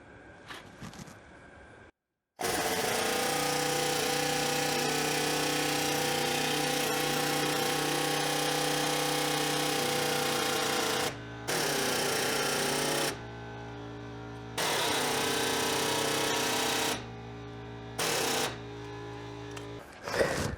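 A pointed chisel bit with a 24mm socket on it, driven by an air hammer, presses a stuck bolt out of a spring hanger on a 1966 Ford F100 suspension. A loud, sustained mechanical hammering runs alone in long bursts with brief pauses between them.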